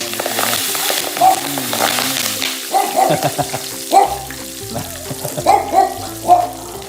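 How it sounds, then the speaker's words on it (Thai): Dried chillies and kaffir lime leaves fry in oil with a lively crackling sizzle, punctuated by scraping stirs and clinks from the pan at uneven intervals, close and fairly loud, no talk. "เดี๋ยวเรา ทอดพริกเนาะกับใบมะกรูด"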